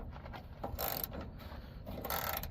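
A wrench works loose the body mount bolts on a 1997 Toyota Tacoma pickup, giving soft, close metallic clicks and a brief louder ratcheting scrape, with quiet mechanical rattles between them.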